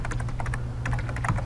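Rapid, light keystrokes on a computer keyboard click away in an irregular patter, close and clear over a steady low hum, with no one speaking.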